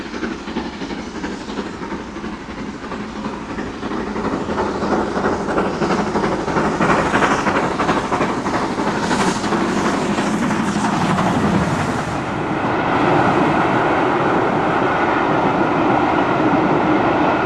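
GWR Castle class steam locomotive 5080 Defiant hauling a 1988 rail tour from Tyseley to Didcot, a loud, continuous roar of the passing train with rapid rhythmic clatter of wheels on track, swelling and holding steady throughout.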